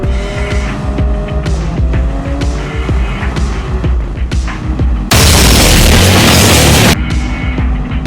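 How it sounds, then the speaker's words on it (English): A Porsche 911 Turbo races in the Gran Turismo 7 video game, its engine revving in short rising bursts with gear-change breaks, loud and close, and a burst of harsh broadband noise near the end. "Porsche 911 Turbo."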